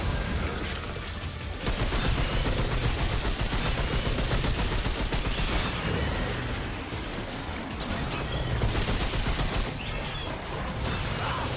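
Sustained gunfire from enemies in the shooter game Remnant 2, dense rapid bursts of shots layered with booms and mechanical clatter, loud and continuous throughout.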